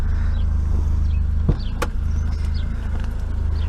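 An Austin Maxi car engine idling just after its first start in three months, giving a steady low rumble with a couple of brief clicks or knocks over it and no talk.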